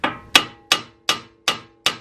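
A hammer strikes a Subaru WRX tie rod in a steady series of six sharp metallic blows, about one every third of a second, loud and close, each ringing briefly before the next hit.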